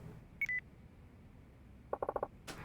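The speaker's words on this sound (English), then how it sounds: "Phone call!" A phone in the video game Yakuza 4 sounds a quick series of five bright electronic beeps, preceded by a couple of short tones and followed by a soft burst of noise.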